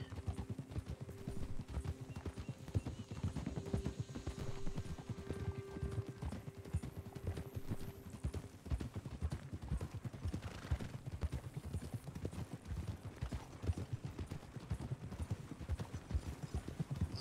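Horse hooves clip-clop in a steady, quick rhythm as a horse travels in Red Dead Redemption 2, moderately close and continuous throughout, with faint ambient tones and no talk.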